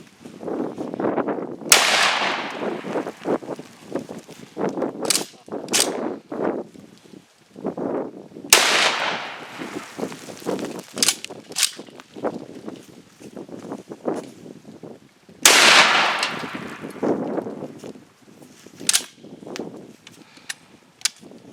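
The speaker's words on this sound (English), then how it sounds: "We're going to shoot a lamp with a 308" A .308 rifle firing at a lamp outdoors, several loud sharp cracks with long rolling echoes spaced several seconds apart, mixed with quieter clatter and handling noises in between.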